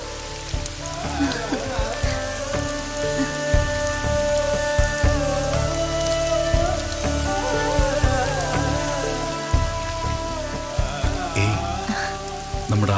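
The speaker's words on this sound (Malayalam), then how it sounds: "പനയോലപ്പുറത്ത് മഴ കൊട്ടുന്ന താളം." Rain drums steadily on a palm-leaf roof, a dense, continuous patter of drops that stays even and fairly loud throughout, with no voices over it.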